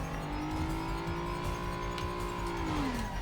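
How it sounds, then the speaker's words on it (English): A car in the stunt-driving game Stuntman accelerating away, its engine note rising steadily in a sustained drone, then dipping as the gear changes near the end, with no voices. "Back into the car. Accelerate away."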